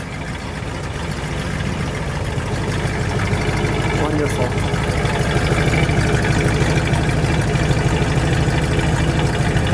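A 1966 Ford Galaxie 500 convertible's 7-litre V8 idles nearby with a steady, deep rumble throughout, while a voice speaks briefly over it.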